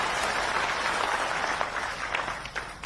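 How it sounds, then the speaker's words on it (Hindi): Audience applause greeting farmers at a state government event where crop insurance money is handed out, a steady broad wash of clapping that thins and fades toward the end. "आप ही तालियां बजा के उनका स्वागत कीजिए, अभिनंदन कीजिए"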